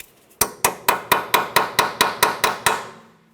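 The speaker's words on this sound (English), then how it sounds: "typically I like to try to break the nut free using an air tool" An air impact wrench hammers at a strut nut on a 2012-2015 Honda Civic in about ten sharp, evenly spaced blows, loud and close, ending with a short fading hiss.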